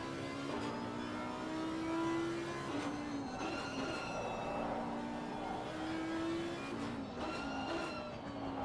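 An Audi V8 race car in a sim racing event at Zandvoort wails steadily, its engine note rising and falling through gear changes for the whole stretch, loud and continuous, with other cars faintly around it.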